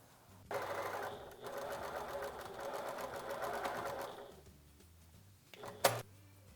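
A sewing machine stitches down the seam allowance on a drawstring bag made of fleecy boucle fabric, running in a steady whirring burst for about four seconds, then stopping with a brief mechanical clack, close and alone.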